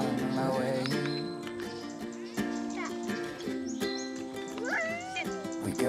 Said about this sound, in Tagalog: Pitigil mo yung pusa na yun.